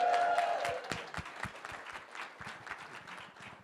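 Audience applauding at a weekly meeting, a burst of clapping from a crowd with a brief cheer at the start, then thinning to scattered claps that fade out.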